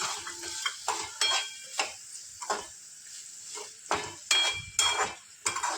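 Mixed vegetables for a Punjabi sabji, with peas just added, sizzle in a pan while a spoon stirs and scrapes in repeated sharp strokes, close and clear with no talk.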